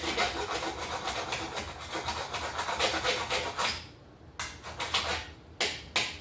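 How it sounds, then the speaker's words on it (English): A metal hand file rasps across a riveted steel fender on a 1962 Schwinn bicycle, a steady run of close, harsh scraping strokes that breaks into a few shorter separate passes near the end. "I'm just going to run a file across this."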